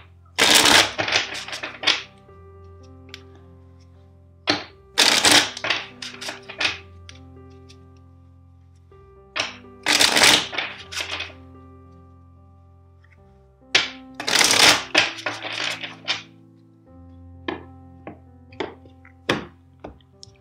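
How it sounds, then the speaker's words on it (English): A tarot card deck being shuffled by hand, four loud riffling bursts spaced about five seconds apart, each followed by lighter taps and slaps as the cards are squared up, close and clear with no talking. "let's shuffle the deck four times for you"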